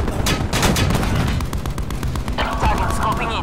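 Gunfire in a shooter video game, a dense burst of sharp reports over a constant loud rumble of battle, with game noise filling the whole moment.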